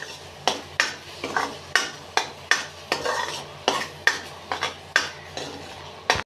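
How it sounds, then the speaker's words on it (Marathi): Onion-garlic spice masala sautéed in oil in a pan for a cowpea curry: a spatula scrapes in steady rhythmic strokes, about a dozen sharp clacks over a low sizzle, close and clear with no talk. "आता हे मसाले छान परतून घ्यायचे"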